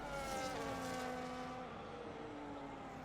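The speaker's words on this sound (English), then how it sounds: "Down the straight he goes." Formula 1 race car in the F1 25 video game howling down a straight at Mexico City, a loud high-revving engine whine with steady rising harmonics that fades slightly as it pulls away.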